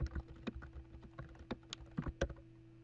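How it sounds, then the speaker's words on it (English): An email address is typed on a computer keyboard, about a dozen crisp key taps in an irregular rhythm, close and fairly quiet over a soft steady hum. "She's going to type in William's email address."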